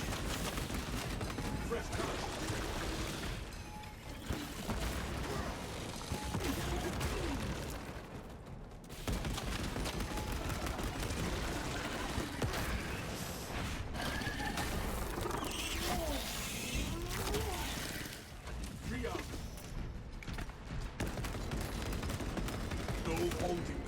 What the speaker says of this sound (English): you can just shoot them in the turret for double damage